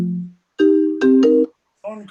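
A melodic phone ringtone from an incoming call breaks into an online Bible study, playing several sustained tones in quick succession before a voice speaks briefly at the end.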